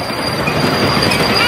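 A ride on a small live steam locomotive train gives a loud, continuous rumble of rolling wheels with a thin high squeal running over it, heard close up.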